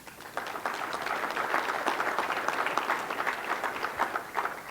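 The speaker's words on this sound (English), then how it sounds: "so give him a round of applause" An audience at a leadership talk gives a round of applause, a sustained crackle of many hands clapping for several seconds at moderate, fairly distant level, with no voices over it.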